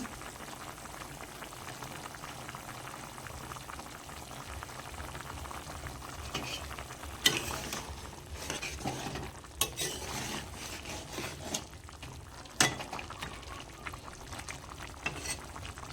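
Egg and cauliflower curry simmering in a pan, a soft continuous bubbling and low sizzle with occasional spoon scrapes and clinks against the pan, fairly quiet and close, without talk.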